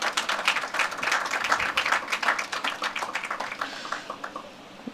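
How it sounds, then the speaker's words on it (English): Audience applause at a floral tribute ceremony, a round of clapping with distinct individual claps, fairly close and moderately loud, tapering off toward the end with no talk over it. "Another round of applause,"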